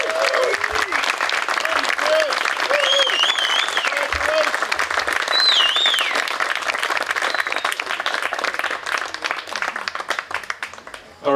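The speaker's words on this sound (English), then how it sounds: "one more round of applause for 2025 class of the Illinois Disc Golf Hall of Fame" An audience at the Illinois Disc Golf Hall of Fame induction ceremony applauds steadily for about eleven seconds, dense clapping with scattered cheers and whistles before it tapers off.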